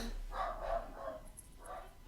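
Dogs barking faintly in the background, two short bursts of barks spaced apart.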